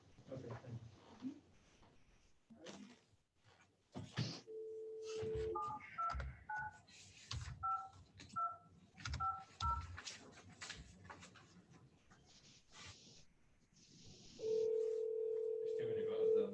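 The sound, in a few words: dialing buttons on a telephone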